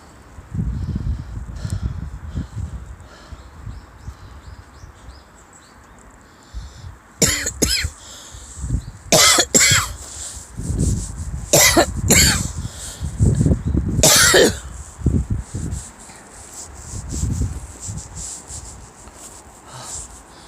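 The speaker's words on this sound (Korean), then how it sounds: "자꾸 기침을 하네" Several harsh coughs come in bursts through the middle, amid rubbing and rustling noises, with quieter stretches before and after.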